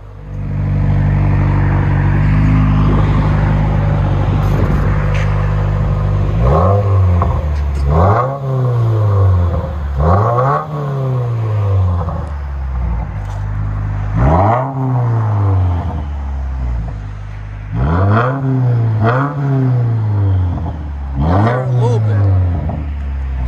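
A straight-piped 2021 Subaru WRX turbo engine idles with a loud rumble, then revs in a series of sharp rising and falling blips, close and aggressive, with faint turbo whistle.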